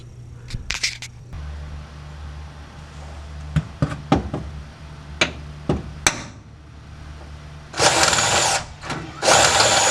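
A power drill bores out a hole in metal during leaf spring relocation work on a Mopar A-body car. Sharp knocks and taps come first, then harsh bursts of drilling near the end over a steady low hum.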